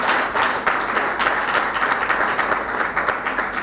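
A congregation at a Sabbath church service applauds together, a steady, dense wash of clapping that holds at an even level throughout with no pauses and no voices standing out.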